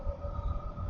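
A metro train rumbles past nearby, a low steady roar with a faint tonal whine riding above it.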